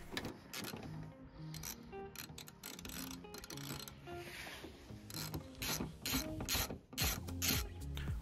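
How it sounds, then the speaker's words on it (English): A ratchet fitted with a Torx 30 bit undoes the headlight screws on a MK6 Ford Fiesta. Quick, close clicking runs come in repeated bursts with brief pauses, and there are small metallic knocks between strokes. "take a Torx 30 bit and undo the three screws holding the headlights on."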